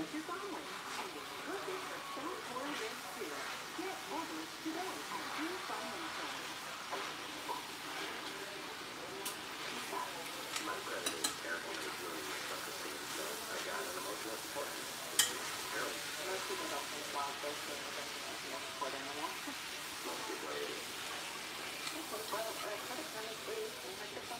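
Close to two pounds of ground beef frying in a pan, a steady soft sizzle and hiss with scattered scraping and clinks as a tomato masher chops the meat, while people talk over it.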